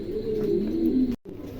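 Pigeons cooing at a busy pigeon market, soft low murmuring coos close by over a steady background hum, with a brief break near the end.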